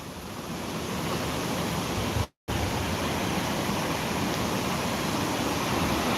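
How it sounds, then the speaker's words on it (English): Steady, loud roar of a waterfall on the River Don, a dense unbroken rush of falling water close by, cut by one short dropout to silence before resuming. "And I'll show you the waterfall."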